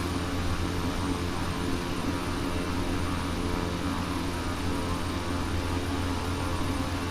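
A twin-engine King Air cruising in Microsoft Flight Simulator X, heard as a steady, loud propeller-engine drone with constant tonal hum throughout, unchanging and alone.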